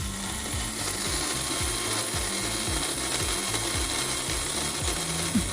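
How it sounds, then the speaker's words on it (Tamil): An electric mixer beats whipping cream for Oreo pudding, giving a steady, close mechanical whir with a fast rhythmic rattle of the beaters against the bowl that continues without a break. "இப்போ இதை நல்லா பீட் பண்ணி எடுத்துக்கணும்."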